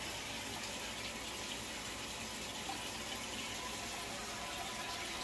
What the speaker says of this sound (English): this one can just sit in the sink and just let the water run on it